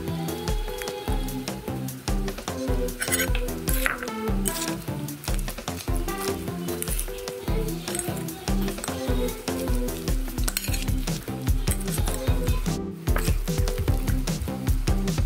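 Sweet potato being mashed and stirred with milk in a pot, giving a steady run of wet squishing and scraping clatter, close and continuous, with no talking.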